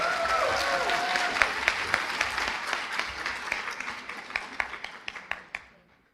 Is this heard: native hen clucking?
no